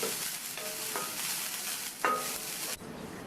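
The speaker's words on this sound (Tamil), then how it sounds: "அடுத்து இதில் 1/2 கப் தேங்காய் துருவலை சேர்த்து அதனுடைய ஈரப்பதம் போய் அதனுடைய கலர் லைட்டாக சேஞ்ச் ஆகிற வரைக்கும் எண்ணெயிலேயே வதக்கிக்கணும்" Grated coconut sautés in hot oil for a raw banana side dish, giving a steady close sizzle with scraping stir strokes from a spoon in the pan, and no talking.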